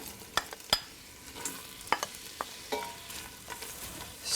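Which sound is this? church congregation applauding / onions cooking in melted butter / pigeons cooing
onions cooking in melted butter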